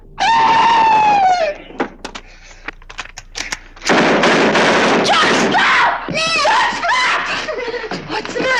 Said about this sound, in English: Someone was screaming.